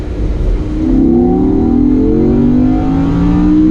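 A 2017 Audi R8 engine revs hard to redline and climbs steadily in pitch, loud and close, the whine rising toward its peak.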